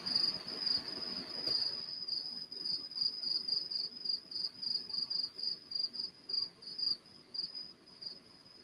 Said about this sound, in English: comments like that get the crickets.